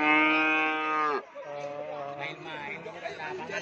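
A Madura crossbred cow at a cattle sale moos loudly and close for about a second, followed by a crowd of people chattering nearby.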